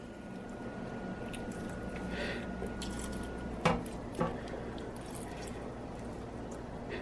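Water poured slowly into a thick disposable diaper that soaks it up, giving a faint, steady trickling hiss with two soft squishy splashes midway, with no talking.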